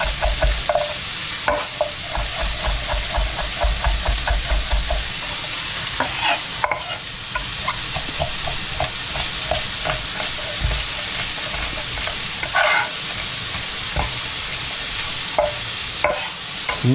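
Chopped onion and garlic sizzle with cauliflower in a frying pan, a constant loud hiss punctuated by repeated scrapes and clicks of stirring, close up with no voices.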